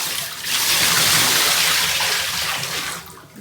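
Very hot water gushes out of the lint trap of an INTERGREAT portable washing machine into a drain, a loud rushing pour that swells, holds steady, then tapers off, with no talking.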